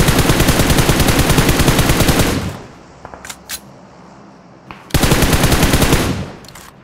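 Enemy automatic gunfire around school buildings in a shooter video game: a loud sustained burst of rapid shots, a pause with a few faint clicks, then another loud rapid burst.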